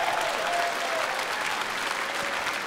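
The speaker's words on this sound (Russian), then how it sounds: "аплодисменты" Steady applause from a boxing arena audience after a WBC cruiserweight professional fight, dense clapping filling the space evenly and continuously with no voices on top.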